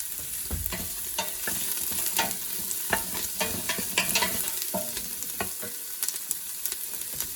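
Onions and garlic fry in a pan, a steady close sizzle broken by repeated scraping and clinking as a utensil stirs them.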